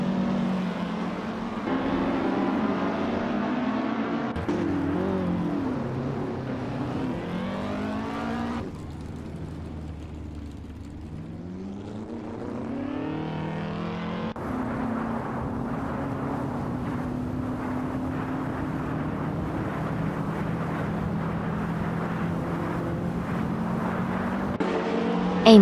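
Race cars from a nonstop kids' racing game roar steadily for the whole stretch, engine tones sustained and loud with some rising and falling pitch as cars pass and accelerate.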